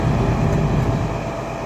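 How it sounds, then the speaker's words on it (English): Class 222 train passing behind an HST at Market Harborough station, a loud steady low rumble of rolling stock close by without a break, no voices. "Passing behind the HST is 222 something, bound for London from Sheffield."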